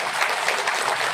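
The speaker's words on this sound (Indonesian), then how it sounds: "Tepuk tangan buat panitia." Audience clapping for the organizers at a public religious gathering with sholawat singing, a steady dense patter of many hands sustained throughout with no pauses.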